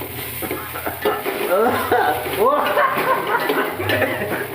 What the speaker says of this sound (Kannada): ಈಗ ಮೆಣಸಿನ್ಕಾಯಿ ಹಾಕ್ತಾ ಇದ್ದೀವಿ.